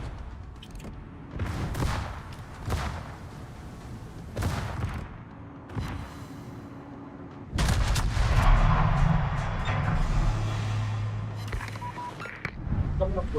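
Naval gunfire aimed at a submarine in the World of Warships game: several booming shots spaced apart, then a louder, sustained stretch of firing and rumbling impacts, with a player talking between the shots.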